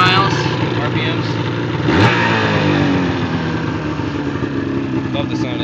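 Warmed-up 2007 Ski-Doo snowmobile engine revving close by, a loud sustained mechanical roar with one sharp throttle blip swelling then settling back toward idle.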